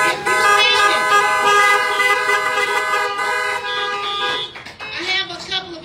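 Car horns honk together in a loud, sustained chorus of overlapping toots for several seconds, with shorter bursts near the end, likely a crowd of cars outside a church service.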